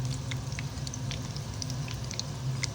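Onion bondas fry in hot oil over a medium flame, giving a steady, close sizzle dotted with small crackles and pops throughout, with no voices.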